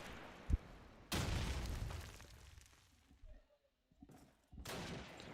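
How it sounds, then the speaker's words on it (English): Grenades burst in the video game Call of Duty 2 during a LAN championship match: sharp, loud explosions and gunfire crack out in separate bursts with quiet gaps between them, and no talk is heard. "And the nades."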